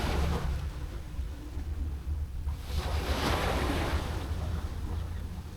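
Sea waves wash onto a beach in Bali as a steady, breathy surf with wind across the microphone, swelling midway and then settling, with no talking.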